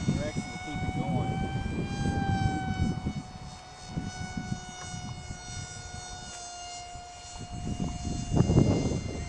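A repaired RC model P-38 airplane flies overhead with a high, whining engine buzz that rises and fades as it passes, while people talk nearby.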